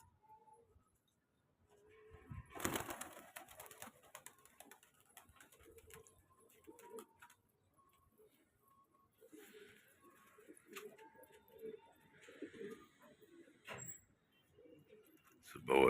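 Pigeons coo in a rooftop loft, soft intermittent calls near and far, mixed with scattered bumps and rustles and a low voice now and then.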